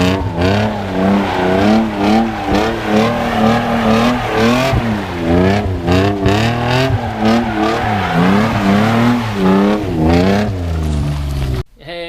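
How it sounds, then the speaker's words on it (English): A BMW E39 with a welded differential and cut exhaust drives loudly around a cone, its raw engine note rising and falling in repeated revving surges close by, ending with an abrupt drop. "What you just saw there was Martin driving around in his E39."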